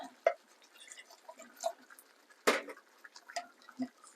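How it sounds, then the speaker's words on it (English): Half a cup of stock swirled to rinse out a tin, heard as faint, sparse drips and small liquid sloshes with a sharper clink near the middle. "With our 1/2 cup of stock, what I like to do is rinse out the tin,"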